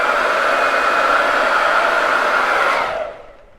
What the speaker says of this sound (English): grab my hair dryer and dry that real quick.